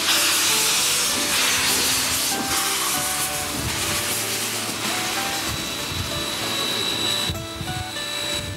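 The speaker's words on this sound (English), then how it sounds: "With a lot of hiss and a little bit of roar, today's adventure finally gets underway" A steam locomotive on a mainline excursion lets out a strong, continuous hiss of steam with a low rumble underneath as the train pulls away, steady and close throughout.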